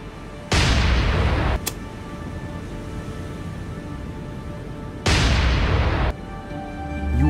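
Two heavy booming salvos from a video game warship's radar-guided cruiser guns firing at will, each a loud broadband blast lasting about a second, separated by a long rumbling gap.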